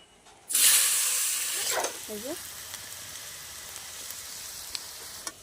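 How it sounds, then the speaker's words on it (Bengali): Potato pieces frying in oil left from frying fish, with a loud sizzle bursting up as they hit the pan, then settling into a steady quieter hiss with faint clinks of stirring. "আলুগুলো ভেজে নেব লাল লাল করে এই মাছের তেলে"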